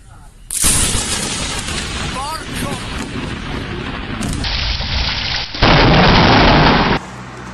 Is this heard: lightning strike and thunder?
yes